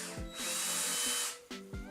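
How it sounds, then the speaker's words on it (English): A power drill whirs up and winds down while twisting a bundle of wires for a mixed-media tree on glass, with short motor bursts, one sustained high whine in the middle, then brief spins at the end. "I'm twisting the entire bundle of wires with my power drill."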